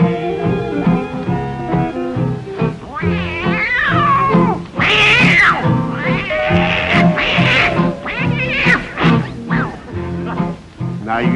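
A singer's voice imitates an old tomcat fight as part of a song, with yowling, caterwauling meows over steady instrumental accompaniment, loud and close throughout.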